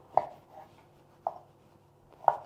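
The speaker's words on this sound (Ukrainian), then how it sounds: "І будемо нарізати таким невеличким кубіком кабачок" A knife cuts young zucchini into small cubes on a cutting board, giving three sharp, separate chops about a second apart. The sound is close and fairly quiet, with no talking.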